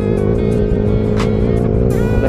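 A Yamaha Sniper 135 motorcycle accelerates hard, its engine roaring loud and close with a dense, steady rising drone for the whole stretch.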